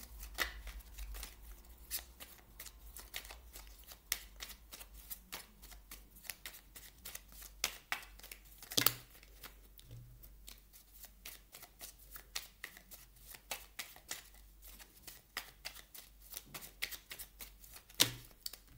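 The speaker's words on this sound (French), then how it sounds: "On va aller demander maintenant une carte au petit oracle de la mission de vie pour vous, les Gémeaux." Oracle cards are shuffled by hand in a long run of crisp, rapid riffling flicks and soft slaps, close and fairly quiet, with no voice over them.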